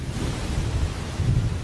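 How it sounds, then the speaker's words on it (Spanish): Heavy rain pours steadily during the wet season while a low rumble of thunder rolls underneath, a dense continuous wash with no voices. "En el apogeo de la estación húmeda llueve casi cada día."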